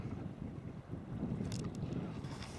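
Wind noise buffets the microphone steadily while sea kayaking off Elgol on the Isle of Skye, with a low roar and faint water splashes around the boat.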